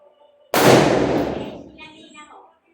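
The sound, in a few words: firecracker bang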